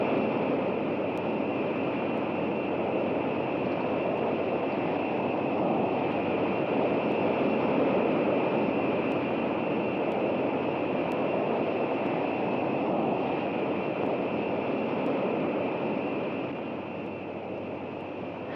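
A North American X-15 rocket aircraft roars in flight, a steady broad rushing engine noise with a high whine held throughout before easing slightly at the end.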